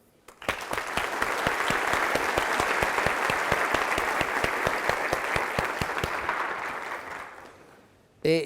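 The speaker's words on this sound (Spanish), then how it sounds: "Agradezcámosles con un gran aplauso." An audience at a mathematics conference opening at a university in Manizales gives a big round of applause for the professors, dense steady clapping building quickly and lasting about eight seconds before fading out.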